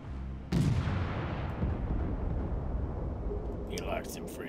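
Ship gunfire in World of Warships opens with one loud, close boom that rolls off into a long rumbling decay, followed by faint later clatter, with talk in the background.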